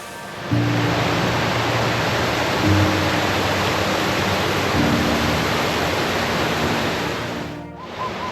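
A river flows on a cold, brisk morning in Helen, Georgia, with a loud, continuous rushing wash of water close by, a low steady hum running beneath it before the sound cuts off near the end.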